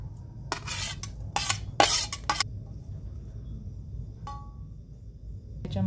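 Chopped onion, coriander and garlic being mixed into brinjal bharit: a quick run of sharp spoon-on-bowl clinks and scrapes, then near silence with one faint tap.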